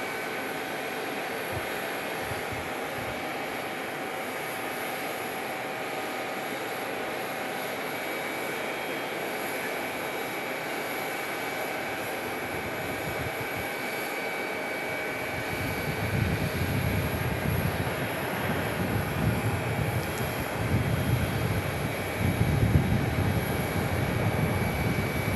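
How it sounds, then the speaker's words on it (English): An American Airlines Airbus A319 arriving at Phoenix Sky Harbor from Oklahoma City: a faint engine hum and whine at first, swelling into a louder rumbling roar as the jet draws near. "Next arrival from Oklahoma City, an A319 for American Airlines."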